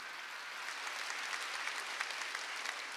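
Church congregation applauding during a Wednesday worship service, a dense steady wash of many hands clapping together, sustained and even, heard at a distance.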